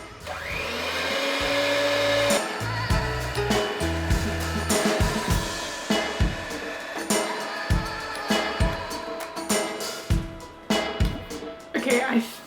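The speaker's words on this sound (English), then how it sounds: "whisk it with an electronic mixer" An electric hand mixer whisks egg whites for soufflé pancake meringue, a steady motor whine at first that gives way to uneven rattling and scraping against the bowl, close up.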